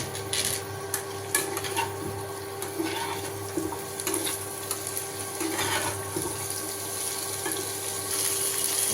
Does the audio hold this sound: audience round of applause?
no